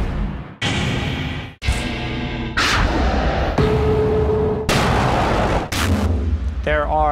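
Sci-fi collision impact sound effects play as a run of separate heavy booming hits, each cutting off abruptly before the next, with whooshing tails and a final warbling stinger. No one speaks over them.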